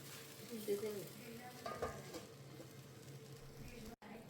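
Jowar dosa batter cooks on a cast iron pan with a soft, steady sizzle and a few spatula scrapes, quiet and close with faint background sounds.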